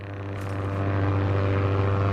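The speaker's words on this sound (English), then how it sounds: "Bomber plane." Bomber plane flying over in a video game: a steady, droning propeller engine hum that swells slightly, loud and continuous, with no talk.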